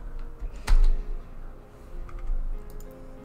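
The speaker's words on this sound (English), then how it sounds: "Sorry for the clicking in the background." Rapid clicking taps in the background during Geometry Dash play, a sharp louder click early then lighter scattered clicks over a low steady hum, fairly close and without talk.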